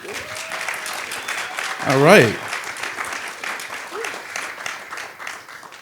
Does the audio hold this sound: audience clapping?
yes